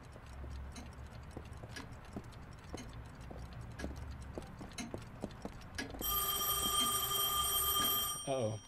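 Telephone in the Heavy Rain video game starts ringing partway through, shrill repeated bell tones that rise clearly above quiet ticking and soft clip-clop knocks in the background.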